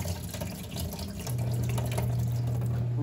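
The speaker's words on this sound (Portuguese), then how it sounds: "Aí eu jogo essa água fora." Fatty soaking water poured out into a kitchen sink from a bowl used to soak pork chops, a steady close splashing pour that grows fuller and louder partway through.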